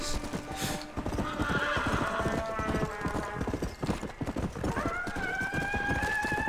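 Horse in the game Red Dead Redemption: Undead Nightmare gallops with steady, rapid clip-clop hoofbeats throughout, breaking into a loud, drawn-out neigh near the end, with ambient game noise underneath and no talk.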